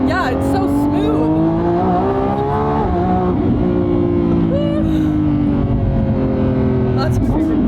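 A Nissan GT-R with a 1300hp built Gintani engine and stock exhaust hums in a loud, steady drone whose pitch rises and dips through smooth shifts, with people talking over it throughout.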